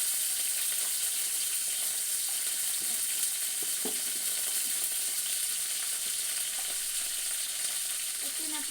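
Green chillies, onion and curry leaves fry in hot oil for egg rice, a constant close sizzle with a few soft stirring clicks and scrapes of the pan.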